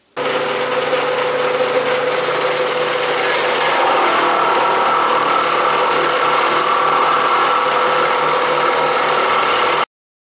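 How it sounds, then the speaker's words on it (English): A dull end mill cutting metal during milling work on a Logan lathe gives a loud, steady grinding and chattering drone that runs unbroken for about ten seconds, then stops abruptly. "I've been busy milling, and much of it done off camera, and I just had a horribly dull end mill. You probably could hear it"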